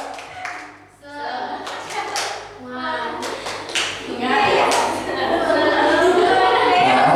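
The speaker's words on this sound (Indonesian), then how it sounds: "Kelompok biawak, coba tepuk semangat." Students in a group perform a rhythmic spirit clap in a classroom, patterned bursts of hand claps that build louder toward the end, mixed with children's voices.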